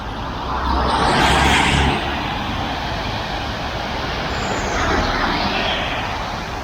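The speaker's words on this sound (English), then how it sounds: "you can hear the traffic and it is quite busy out there" Busy road traffic at a major crossing on the way to Richmond Park's Robin Hood Gate, with a steady roar of vehicles and two louder passes swelling nearby.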